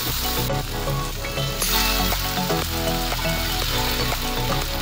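Cauliflower manchurian sauce with soy sauce, tomato sauce and a little water frying steadily in a pan, a continuous loud sizzle with faint stirring scrapes and no talk.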